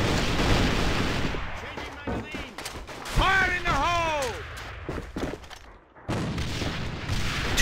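Gunfire and grenade bursts in the competitive video game AVA, with dense shots early, a sweeping whistling effect mid-clip, then renewed loud firing toward the end.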